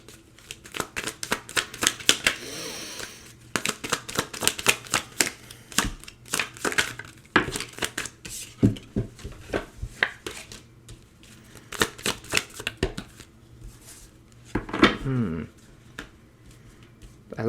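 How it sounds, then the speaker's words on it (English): Tarot cards shuffled and pulled, a close, busy run of papery riffles, flicks and slaps in irregular bursts, with occasional quiet talk between them. "I'm just going to pull a few more cards out."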